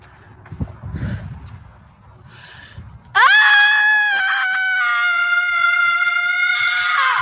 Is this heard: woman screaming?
yes